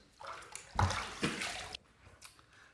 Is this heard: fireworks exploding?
no